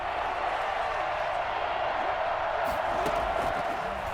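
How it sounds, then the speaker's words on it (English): A stadium crowd in Madden NFL 21 roars steadily with cheering and applause, a constant wash of noise from a packed football game, with no voices rising above it. "the crowd getting into it as we come up on a big third down"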